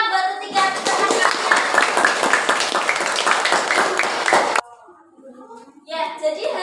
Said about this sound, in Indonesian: kasih tepuk tangan buat ketiga kalian